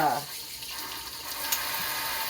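Tap water runs steadily into a sink as a curling iron is rinsed clean, a continuous close hiss after a brief voice at the start, with a small clink partway through.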